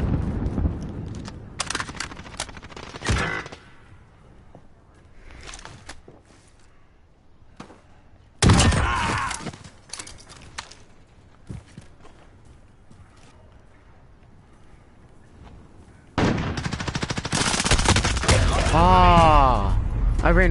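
Bursts of automatic gunfire from the Modern Warfare video game arrive in several loud clusters separated by quieter stretches, with a player talking in between.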